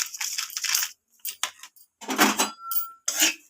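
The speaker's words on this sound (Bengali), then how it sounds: "তো সুজিটাকে আমি এইভাবে খুন্তির সাহায্যে নাড়াচাড়া করে সুজিটাকে লাল লাল করে ভেজে নেব।" Semolina being stirred and roasted with a metal spatula in a wok over a gas stove, heard as short bursts of scraping and clinking, close and fairly quiet, with brief silent gaps between strokes.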